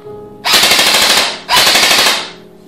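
An M4 airsoft gun fires two rapid bursts of about a second each, loud and close, with a brief gap between them and a fading tail at the end.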